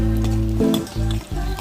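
Onion, dried red chilli, curry leaves, coriander and cumin sizzling in a pan, a close, loud frying hiss broken by a few clattering stirs. No one speaks.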